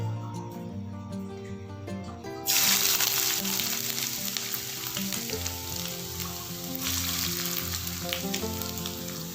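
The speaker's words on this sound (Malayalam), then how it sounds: "ഇനി ഈ എണ്ണയിലിട്ട് ഇഞ്ചി നന്നായിട്ടൊന്ന് വറുത്തെടുക്കണം." Ginger pieces drop into hot oil in a pan for a spicy Kerala-style ginger curry, bursting into a loud, steady crackling sizzle after a quieter start, with soft music underneath throughout.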